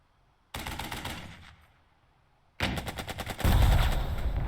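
Gunfire in the tactical leadership RPG Burden of Command: an opening burst of shots, then a lull, then rapid repeated bursts that build into heavy, loud firing with booming low impacts.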